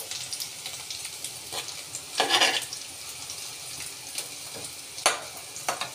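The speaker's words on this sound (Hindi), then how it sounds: "इसे थोड़ा थोड़ा हिलाते रहना है, नहीं तो ये जल जाएगा।" Sem aloo, a spicy dhaba-style Indian bean and potato curry, sizzles and fries in a pan while being stirred, a steady close crackle with a few louder scraping bursts of the spoon against the pan.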